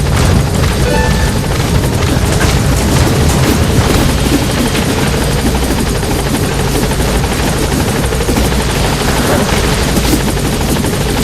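A support helicopter arriving in Metal Gear Solid V, with loud, continuous rotor thrumming and engine roar that fills the scene, steady and close, with no speech.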